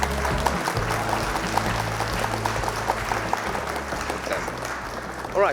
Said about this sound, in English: Ladies and gentlemen, please give a round of applause to Mr.